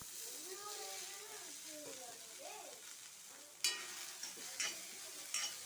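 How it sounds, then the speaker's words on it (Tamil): Chopped beetroot goes into a hot kadai for sautéing, with sizzling and stirring that pick up partway through as pieces land and crackle, following a stretch of quieter background. "இப்போ அதே கடாயில் நம்ம கட் பண்ணி வச்சுக்கிறத பீட்ரூட்டை சேர்த்திக்கலாம்."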